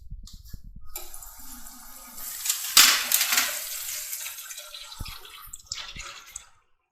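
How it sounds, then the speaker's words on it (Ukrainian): Dental instruments are rinsed under running tap water after mechanical cleaning: a close, steady splashing stream with scattered clinks and knocks, swelling louder midway before trailing off. "Після проведення механічної очистки інструментів і промивання їх під проточною водою"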